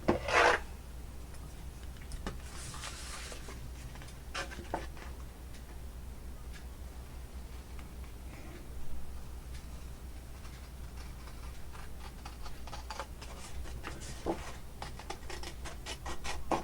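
Cutting a legal size folder, a faint scraping, rasping sound with scattered light ticks and taps, low in level and fairly close.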